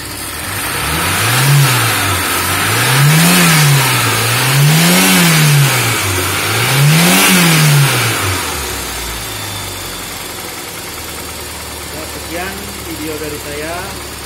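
A car engine fitted with an unlocked Bosch MP5.2 ECU revs up and down in four steady, rising-and-falling swells, then settles back to a rough idle; people talk over the engine noise.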